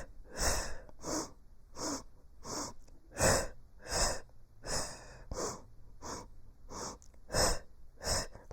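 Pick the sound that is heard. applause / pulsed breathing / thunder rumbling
pulsed breathing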